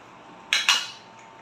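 Two quick metallic clinks of a serving spoon against a pot as paneer curry is dished up in a home kitchen, close and sharp, with no talk.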